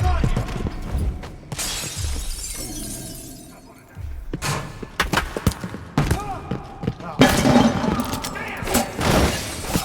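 Glass shattering in the stealth video game Dishonored, several sharp crashing bursts with scattered tinkling debris, loud and close, mixed with game ambience and other impacts, while someone talks over parts of it.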